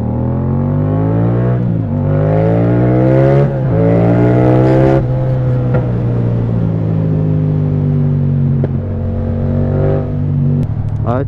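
Yamaha MT-07 motorcycle with a loud aftermarket exhaust revving up repeatedly close by, several rising throttle blips that climb and fall back to a rough idle, with no talking.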